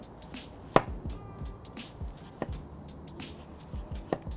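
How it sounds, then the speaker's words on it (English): Sharp knife slicing a tomato into rounds on a cutting board for a burger garnish, a few distinct chopping knocks spaced irregularly, close and fairly quiet. "I'm just gonna slice this beautiful tomato into rounds"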